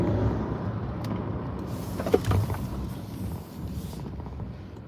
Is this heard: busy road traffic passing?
yes